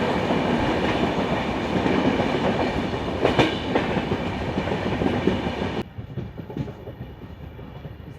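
Onboard the Korba Visakhapatnam Express pulling into Himachalam North railway station: steady rumble and clickety-clack of the carriages, loud and continuous, with a brief sharper clank mid-way before the noise drops quieter as the train slows.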